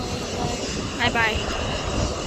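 An airplane takes off at an airport, its steady engine roar filling the background while a person speaks briefly nearby.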